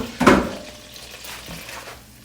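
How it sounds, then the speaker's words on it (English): Green peppers and onion sauté in a hot pan, a soft steady sizzle with a brief clatter near the start, close and fairly quiet. "we're gonna saute our green peppers and our onion"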